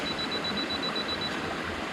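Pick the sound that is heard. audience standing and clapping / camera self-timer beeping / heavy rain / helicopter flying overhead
camera self-timer beeping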